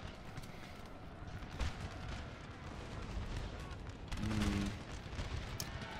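Gunfire from a Napoleonic battle in Napoleon Total War, a steady crackle of distant musket and artillery shots over dense battlefield noise, with a louder burst near the end.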